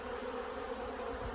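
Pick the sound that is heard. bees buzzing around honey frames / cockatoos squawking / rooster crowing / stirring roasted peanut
bees buzzing around honey frames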